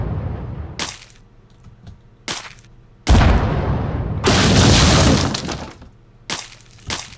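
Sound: explosion in Burrito Bison video game

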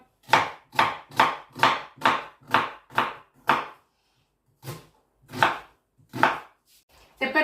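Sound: chopping onion with a knife

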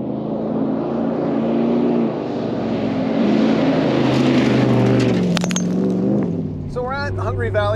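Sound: Ram 1500 pickup truck driving on Nitto Trail Grappler tires

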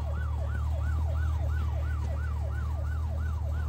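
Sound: police car siren in video game My Summer Car

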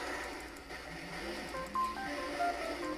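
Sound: phone text message notification sound

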